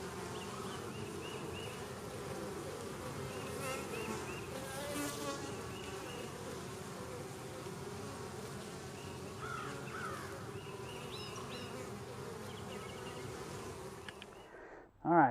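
Honey bees buzz steadily around a backyard hive, a dense continuous hum close by with a few crow caws in the distance, ending in a brief loud rustle.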